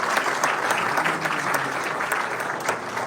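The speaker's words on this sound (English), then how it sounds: "Let's give a big round of applause." A crowd gives warm, sustained applause for a speaker taking the stage, dense and loud throughout with brief voices mixed in.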